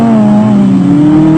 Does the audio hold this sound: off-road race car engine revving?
yes